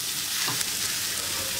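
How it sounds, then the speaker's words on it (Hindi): Steady sizzle and frying hiss as crushed potato is stirred with spices in a hot pan for Mumbai vada pav filling, close and continuous, with faint scraping of the stirring. "अच्छी तरह से मिक्स कर लेंगे मसाले को आलू के साथ में"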